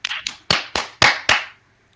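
Six sharp hand claps in a loose, uneven rhythm, close and fairly loud, with silence after the last clap.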